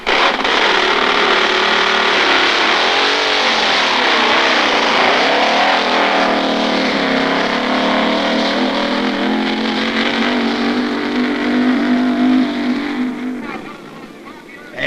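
A drag racing car's engine roars loudly and steadily during a run, its pitch climbing as it accelerates hard, then abruptly cuts off near the end.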